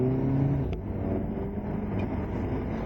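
Audi TT driving with its windows open, giving a steady, loud road and engine rumble with wind noise throughout and no talking.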